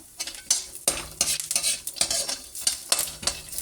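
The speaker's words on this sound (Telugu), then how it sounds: "నేను ఇక్కడ బాదాము, కిస్మిస్ కూడా ఫ్రై చేసి వేస్తున్నాను" Almonds and raisins frying on a medium flame for a homemade snack mixture, a soft sizzle under repeated quick scraping strokes of a spatula across the pan.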